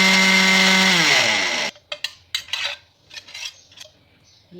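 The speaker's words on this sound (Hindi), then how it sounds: "और ये है प्याज, ये है टमाटर। इन सबको ग्राइंड करेंगे।" Electric mixer-grinder chopping onion and tomato, a loud steady whine with falling pitch as the motor spins down after about 1.7 seconds, then scattered clattering knocks of the jar and lid.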